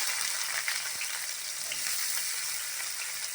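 Chopped red onions frying in a pan for an aloo soya chunks curry, giving a steady, close, even sizzle throughout with no talking.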